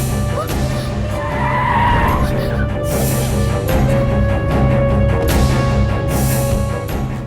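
A car skids to a stop in a Hindi-dubbed film scene, its loud tyre squeal sustained for several seconds over a steady engine rumble.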